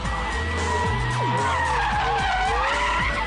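A Porsche Carrera GT supercar skids at speed, its tires squealing loudly in rising and falling sweeps over the steady roar of the engine, with no voices.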